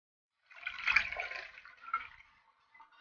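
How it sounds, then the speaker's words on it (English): Oil from a tin can is poured into a container, giving a soft glugging, splashing stream for a couple of seconds that tapers off, fairly faint and close. "I poured 2 liters of oil into this container and it is still not full"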